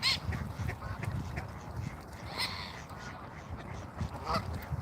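Geese and ducks honk and quack in a park on a chilly winter morning, a loose chorus of overlapping calls at moderate distance with a few louder honks standing out.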